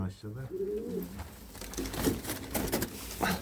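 Pigeons coo in low, throaty rolling calls while people talk nearby, with rustling and flapping noises around them.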